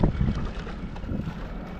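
Strong wind buffets the microphone outdoors near water, a rough, gusty rumble that is loudest at the start and holds for a couple of seconds with no voices.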